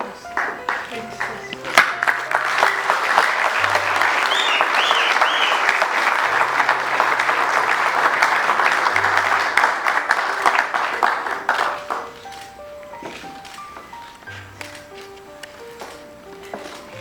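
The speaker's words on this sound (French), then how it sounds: "Sous vos applaudissements, bien sûr," Audience at a Red Cross advocacy day and honorary diploma ceremony in the DRC bursts into sustained applause, full dense clapping for about ten seconds that drops to a few scattered claps, with background music tones underneath.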